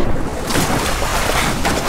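A waterfall in the video game Metal Gear Solid 3 gives off a loud, steady rushing roar of falling water that fills the whole moment without a break.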